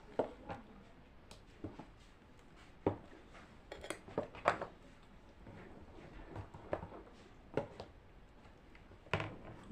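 A spoon stirs a rice and lentil batter in a bowl, producing scattered quiet clinks and scrapes against the bowl at an uneven pace.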